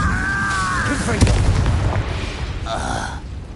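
A Confringo fire spell goes off in Hogwarts Legacy as a sharp, loud blast with a deep booming thud, followed by crackling fiery noise and brief tonal spell effects.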